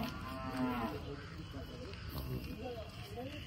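A Gir cow moos at a busy cattle market in Dhule, a single drawn-out low call near the start, heard over a steady crowd murmur with people talking nearby.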